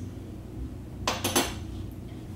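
A spoonful of coconut oil is scraped off a utensil into a pan for sautéing onions, making a few quick, close metallic clinks and taps in quick succession against low background noise.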